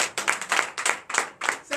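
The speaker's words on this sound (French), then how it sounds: "Donnez l'acclamation." A church congregation at a Sunday service in Comè, Benin, claps in quick bursts of scattered applause, fairly close and moderately loud, lasting under two seconds.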